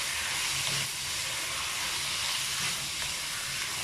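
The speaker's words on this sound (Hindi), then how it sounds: "अच्छी तरह सौते करेंगे इसके साथ, प्याज के साथ।" Half a kilo of minced chicken sautés with onion in a pan for chilli keema, giving a steady close frying hiss and sizzle with faint stirring, no voices.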